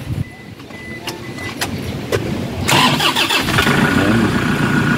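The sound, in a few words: Toyota Hiace commuter van 2011 engine starting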